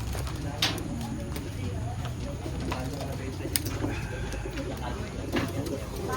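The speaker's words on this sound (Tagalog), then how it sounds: "Ibon." A pigeon coos steadily in Matnog, Sorsogon, its soft, repeated calls heard beneath people talking over a constant noisy outdoor background.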